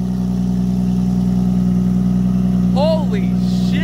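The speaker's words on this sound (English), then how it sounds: "She doesn't sound like a vacuum cleaner anymore. It actually sounds like a car." A modded Porsche 911 Turbo S engine idles with a steady, loud, deep drone close by, while excited voices exclaim over it partway through.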